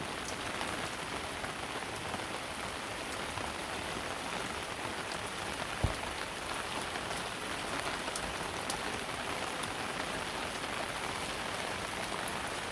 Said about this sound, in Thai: คือฝนมันตกเยอะครับ